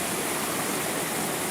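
Loud, steady roar of river rapids on the Upper Red River, broadband rushing water filling the scene continuously from up close, with no voices over it.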